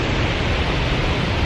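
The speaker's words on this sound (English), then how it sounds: "we just came to this bridge with these beautiful waterfalls" Waterfalls pour beside a bridge on the Superior Hiking Trail, a steady, loud broadband rush of falling water that stays even and unbroken throughout, with no voices over it.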